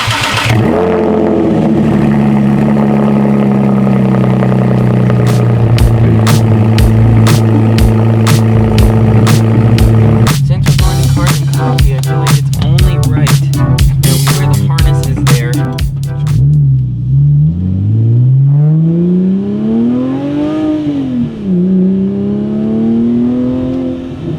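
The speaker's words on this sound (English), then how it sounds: "Let's get a little cold start for the boys." A car engine cold-starts with a loud crank and settles into a high idle, then sharp repeated revs burst out before the engine note swoops up and down, all very close and loud.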